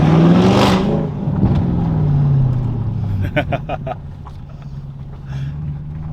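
An Audi RS6 with a new Milltek exhaust revs with a deep, loud engine note that rises and settles, heard from close by with some voices and interior noise mixed in.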